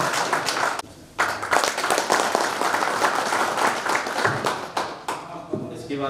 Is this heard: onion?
no